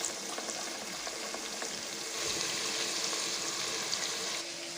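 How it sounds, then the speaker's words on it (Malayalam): Prawns sizzle and fry steadily in hot oil for a prawn biryani, a continuous crackling hiss heard up close with no talking. "ഈ എണ്ണയിലിട്ടൊന്ന് ഫ്രൈ ചെയ്തെടുക്കാം"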